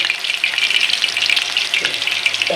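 Rohu fish pieces frying in hot oil in a pan, a loud, dense, continuous sizzle with crackling throughout and no talk.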